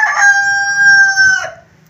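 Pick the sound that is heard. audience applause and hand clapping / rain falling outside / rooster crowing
rooster crowing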